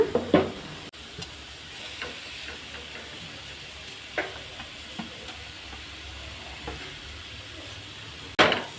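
Spices and vegetables with pepper powder sautéing in a pan for a poha snack, a steady low sizzle with occasional soft stirring clicks and scrapes, no voices.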